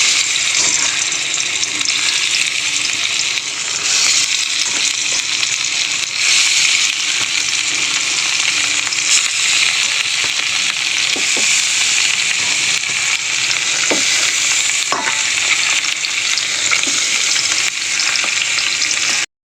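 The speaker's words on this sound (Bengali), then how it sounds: "তাওয়া গরম হয়ে গেছে, এবার মাছগুলো দিয়ে দেবো।" Fish sizzle and spit on a hot tawa griddle, a loud continuous frying hiss with scattered crackles and pops, close and uninterrupted, with no talking.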